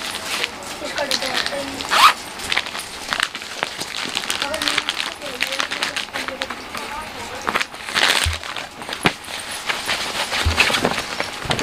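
A zipper on a fabric sample bag holding colour charts and designs is pulled open, a short close rasp among rustling and handling noises, with a person talking throughout.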